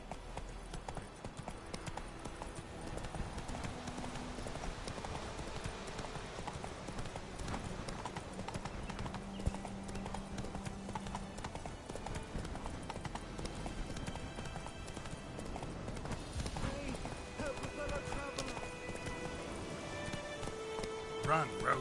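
Roach, the horse in The Witcher 3, gallops with rapid rhythmic hoofbeats that carry on steadily through the whole stretch, under speech and game sounds.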